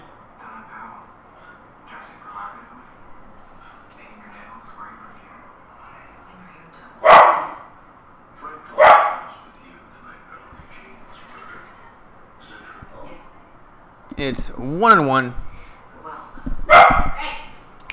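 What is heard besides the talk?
dog barking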